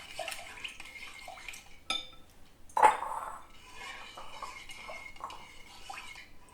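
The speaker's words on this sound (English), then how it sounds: "Give that a nice stir." Egg yolks and cream being stirred together in a bowl for a medieval flan, giving soft scraping and light clinks of a utensil against the bowl, with a sharper knock partway through.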